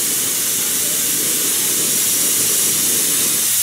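Iridescent red paint sprays onto a handmade crawdad fishing lure as a close, steady airbrush-like hiss that holds unbroken for several seconds.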